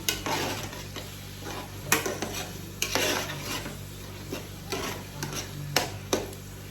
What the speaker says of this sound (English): So I'll stir gently